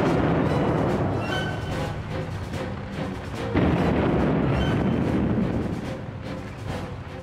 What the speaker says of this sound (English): Finally, the leading British tank, the Mail, opened fire with its 6-pounder gun